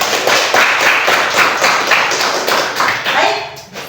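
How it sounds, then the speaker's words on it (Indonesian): Students in a classroom clap their hands together in a steady, loud run of rhythmic claps, gradually thinning out toward the end. "Tepuk tangan dulu sama-sama."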